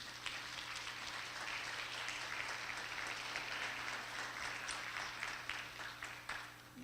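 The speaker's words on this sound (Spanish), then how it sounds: "pido un aplauso para las damas que están en la mesa" Steady applause from an audience at a book presentation, even and sustained throughout, heard from a moderate distance in a room.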